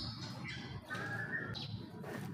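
A white-rumped shama (murai batu) sings in short whistled phrases and chirps, fairly faint against steady background noise, with a couple of brighter sustained notes.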